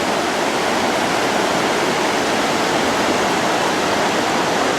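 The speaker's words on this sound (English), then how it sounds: "There's water that flows right out of a culvert." Floodwater pours out of a culvert beneath railroad tracks during a great flood in Newmarket, New Hampshire, a loud, steady rushing roar that stays constant throughout with no talk.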